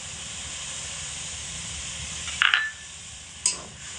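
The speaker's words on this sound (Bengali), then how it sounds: "পাউডার যে দুধটা আমি গুলে রেখেছিলাম সেই দুধটা এখানে দিয়ে দিচ্ছি।" Dissolved powdered milk poured into hot ghee and coconut for coconut barfi gives a steady close hiss, with a sharp burst of sizzling partway through and a second, shorter flare near the end.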